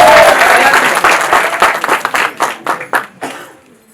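Wedding guests applauding during a marriage ceremony, a burst of clapping that starts full and loud then thins into scattered individual claps before fading out.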